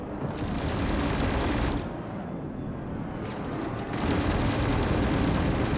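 Gunfire striking the player's ship in the space game Star Citizen, a loud, dense crackling barrage of impacts that eases briefly midway, then resumes at full intensity.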